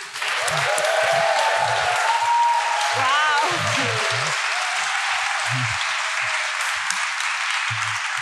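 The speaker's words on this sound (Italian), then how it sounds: "vi invito a salutare con un altro applauso" An audience applauds at a book presentation welcoming the author, a continuous wash of clapping throughout, with faint voices murmuring beneath it.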